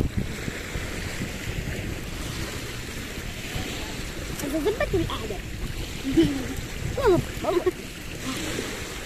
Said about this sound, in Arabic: إذا حلوة أجواء البحر